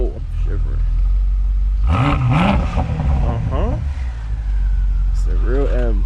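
BMW X5M fitted with catless downpipes, revved in cold weather: a loud, raspy engine roar swells in bursts over a steady rumble, with people talking throughout.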